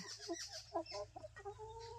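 A chicken clucks in a short series of quick, close calls over a low steady hum.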